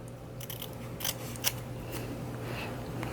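Scissors snip through ribbon being cut at a diagonal for a homemade Thanksgiving wreath, giving a few sharp, close clicks and slices over a quiet room hum.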